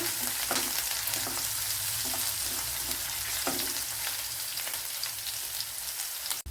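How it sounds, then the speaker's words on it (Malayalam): Green chillies fry in hot oil in a pan for a horse gram dish, giving a steady crackling sizzle with scattered pops and occasional stirring clinks, close and moderately loud. "ഇനി രണ്ട് പച്ചമുളക് ഇതിനെ നല്ലപോലെ ഒന്ന് മൂപ്പിച്ചെടുക്കണം"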